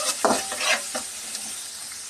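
Chopped onion, sliced green chili, cinnamon sticks and bay leaves stir-fried in hot oil, a sizzling hiss broken by a few quick, close scraping strokes of a spatula in the first second, then a steadier fry.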